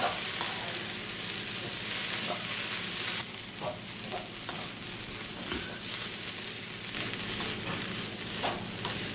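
Cabbage and dal stir-fry sizzles in a pan as it is stirred, a continuous frying hiss broken by light scraping and clicks of the spoon, close and moderately loud throughout.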